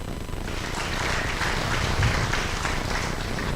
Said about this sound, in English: We need to clap for ourselves.